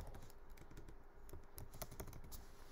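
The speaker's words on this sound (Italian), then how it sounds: "Se io scrivo Alberto" A name is typed on a computer keyboard during a Python programming lesson, a rapid run of light, close key clicks at an uneven rhythm, faint against a low background hum, with no talk.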